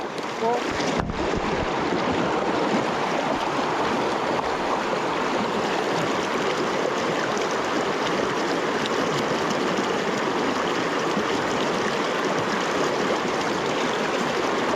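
Water in a small creek rushes and burbles steadily throughout, close and fairly loud, with some wind buffeting the microphone near the start.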